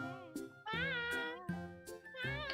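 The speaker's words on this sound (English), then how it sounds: "Where are you meowing?" A cat meows several times in a row, each call long and harmonic, close and fairly loud, with short pauses between them and no talk over it.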